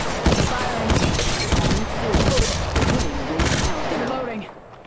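Rapid automatic gunfire in a video game, dense bursts of shots in quick repeated volleys that stay loud throughout before tapering off at the very end.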